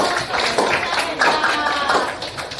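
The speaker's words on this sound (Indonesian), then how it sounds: "Oke, tepuk tangan dulu dong." Clapping from a classroom group of listeners during a civics lesson, a dense patter of many hands over roughly three seconds, with voices mixed in underneath.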